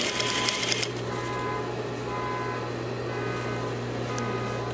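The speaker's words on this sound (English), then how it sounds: "So now I'm just edge stitch because I only edge stitch the pocket." A sewing machine edge-stitches around a patch pocket flap with a steady, close mechanical whir and a faint regular hum, preceded by a brief brighter clatter at the start, with no voices.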